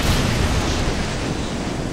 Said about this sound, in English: Reloading the cannon, Captain.